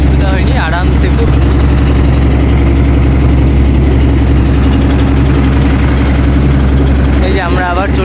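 A large shared boat's engine drones loud and steady on a ride along the ghats in Banaras, a constant low rumble filling the whole stretch while voices talk over it.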